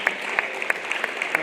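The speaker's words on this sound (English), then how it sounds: "Give a big round of applause as we get started this morning." Applause at a college athletic signing ceremony, a brief steady patter of clapping from a small crowd in a room, fairly close and even.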